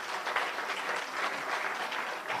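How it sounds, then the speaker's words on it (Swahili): Audience applause at a national delegates convention, a dense steady clatter of many hands clapping throughout, loud and close with no voices on top. "Kwanza tumpigie makofi"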